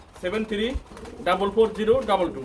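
Pigeons of Bombay Koka and racer breeds coo at a pigeon seller's place in soft, rolling calls that sit under nearby talking.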